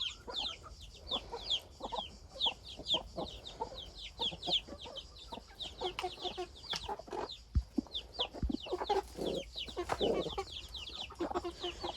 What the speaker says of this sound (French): c'est une mère avec les poussins